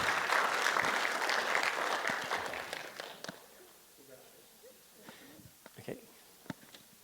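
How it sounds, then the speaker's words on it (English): Audience applause at an architecture symposium session, a dense burst of clapping that fades after a few seconds into scattered claps and quiet room noise. "Oh, applause."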